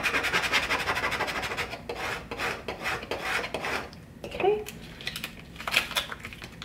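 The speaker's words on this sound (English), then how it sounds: "make sure you burnish the front and the back again. Just rubbing with our Cricut scraper tool" A Cricut scraper tool burnishes vinyl transfer tape with repeated scratchy rubbing strokes, a dry rasping rhythm up close, broken by a brief pause and a short voice in the middle.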